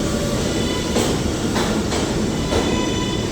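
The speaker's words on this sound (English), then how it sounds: "this train is going extremely slow" A New York subway 7 train rolls slowly along the track, a loud continuous rumble from inside with regular wheel clacks about every half second and no talk.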